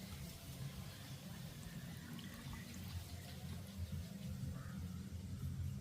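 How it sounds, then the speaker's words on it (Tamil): Cabbage being washed again in a basin of water in a home kitchen, with steady trickling and splashing going on throughout and voices talking faintly underneath. "ஏற்கனவே கழுவி வச்ச கோவா தானே திருப்பியும் தண்ணியில் கழுவணுமே"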